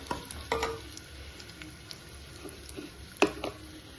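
Dried red chillies and cashews frying in hot oil for masala dosa filling, a low steady sizzle broken by a few sharp stirring clatters and pops, close and moderately quiet, with no voices.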